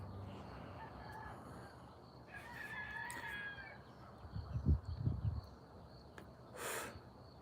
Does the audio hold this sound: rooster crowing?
yes